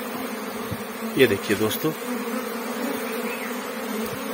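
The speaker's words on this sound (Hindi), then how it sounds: "अभी 15 मिनट और मक्खियां हमारी कितनी फैल चुकी है बाहर" An Apis cerana honeybee swarm buzzes around a hive box made from a log hive, a continuous near drone with a few louder passes as bees fly close, under someone speaking briefly.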